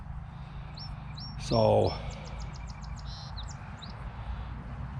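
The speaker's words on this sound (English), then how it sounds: "nice day out here, birds chirping." Birds chirp outdoors in quick, faint bursts across the whole stretch over a low background rumble, while someone speaks a single brief word.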